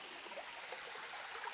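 Water flows steadily down a stream in a ravine, making a continuous soft rushing and trickling wash with no voices over it.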